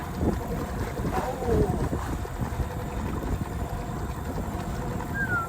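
A fishing boat's engine runs at sea during a catch, a low steady drone mixed with wind buffeting the microphone and water noise, with a voice briefly over it.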